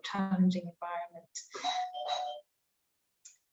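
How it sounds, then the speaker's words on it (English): A doorbell chimes in a home while a person speaks over a video call, its two ringing tones mixed under the voice, and the speech then stops. "Just excuse the doorbell"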